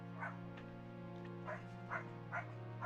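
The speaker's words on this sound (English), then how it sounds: "I got some doggos barking" Puppies barking in a series of short, high yips at uneven intervals, moderately close, over a steady low electrical hum with no talking.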